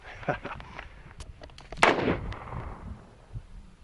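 Rifle shots fired outdoors while zeroing an inexpensive Ace Hardware scope: several sharp cracks spaced apart, with one louder, fuller report near the middle followed by a rolling tail, no talking.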